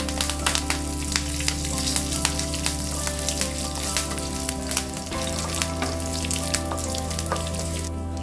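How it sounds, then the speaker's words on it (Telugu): Curry leaves fry in hot oil as a tempering for a village-style peanut roti pachadi, making a dense, continuous crackling sizzle with sharp pops throughout and no voices. "కొద్దిగా కరివేపాకు వేసుకున్నామండి."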